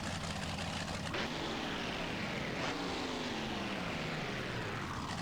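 The Monster Jam V2 monster truck engine sound from a video game is a steady, dense roaring drone that holds at constant loudness, with a faint rising sweep partway through and no talking.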